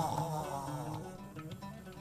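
A voice imitates the snoring breath of a dying person, one short, rough, guttural snore lasting about two seconds, close and fairly quiet.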